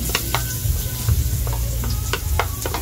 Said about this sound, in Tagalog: since mainit na yung ating pan, pwede na natin ilagay ang ating garlic